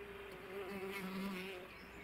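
Bumblebees buzz steadily at close range around a nest entrance, a continuous humming drone that swells slightly in the middle.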